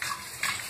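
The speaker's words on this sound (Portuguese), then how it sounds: "Só encher aqui a água." Tap water running into a container: a steady, close gushing hiss with a brief louder surge midway, heard alone.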